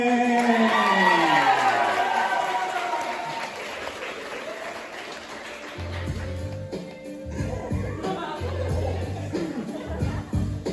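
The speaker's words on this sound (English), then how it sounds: "I'm really glad y'all clapped when I said to clap" A comedy show audience claps and cheers loudly for a stand-up comedian, with whoops over dense applause that fades, then scattered claps and crowd noise return alongside someone speaking.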